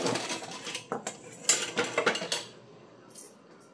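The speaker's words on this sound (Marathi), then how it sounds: "तवा पलटी करून घेऊया।" An iron tawa is flipped over a flame to roast wheat tandoori naan stuck to its underside, a burst of metallic clanks and scrapes followed by quieter knocks, close and without talk.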